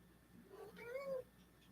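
A pet cat named Hank lets out a single short, soft rising meow, faint against a quiet room hum.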